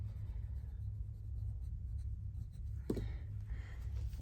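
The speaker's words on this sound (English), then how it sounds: "Let me just write journal 2." A pen scratches faintly across a paper journal tab, writing a short label in quiet, soft strokes over a low background hum, with one brief louder tap midway.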